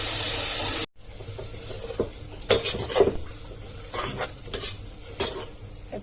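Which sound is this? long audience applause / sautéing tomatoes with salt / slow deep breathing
sautéing tomatoes with salt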